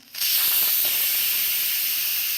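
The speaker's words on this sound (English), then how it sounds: "I need to change it from sealing to venting" An Instant Pot pressure cooker switched from sealing to venting releases steam: a sudden loud, steady hiss that starts abruptly and holds constant, close and alone with no talking.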